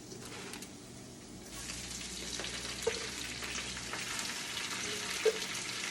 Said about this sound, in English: So it's been sizzling, what, maybe 15, 20 seconds?